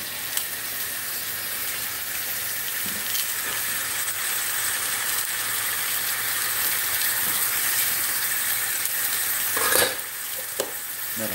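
Ground chuck beef browning in a pan hisses with a steady, close sizzle and steam, broken by occasional clinks and scrapes of a utensil, with no one talking.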